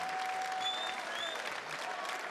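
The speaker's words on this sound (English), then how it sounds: "Some well-deserved applause there for Julie." Crowd applause at a women's darts match after a leg is won, steady and dense clapping from a large audience filling the whole stretch, with faint calls mixed in.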